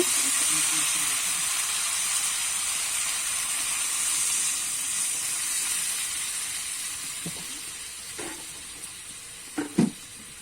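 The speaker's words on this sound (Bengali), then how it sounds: "এবারে কিন্তু জল দিয়ে দেব।" Water is added to spiced masala frying for a Bengali-style grass carp fish curry with potatoes and cauliflower. A steady sizzling, steamy hiss fades slowly, followed by a few sharp utensil clanks near the end.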